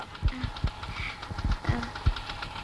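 A scooter engine putters unevenly at idle, giving a string of irregular low thumps and knocks at close range over faint background noise, with no voices.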